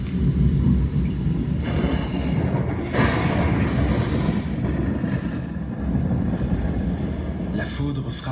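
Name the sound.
thunder from lightning strike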